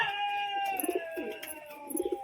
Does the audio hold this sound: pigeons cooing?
yes